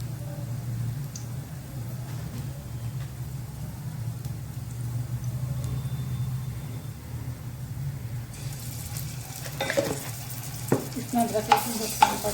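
Small pieces of leftover roti are stirred and fried for sutariyan. A low, steady sizzle runs throughout, and toward the end it is broken by a few sharper scraping and clinking stirring sounds.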